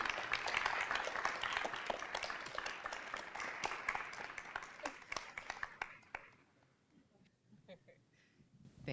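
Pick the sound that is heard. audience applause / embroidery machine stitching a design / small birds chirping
audience applause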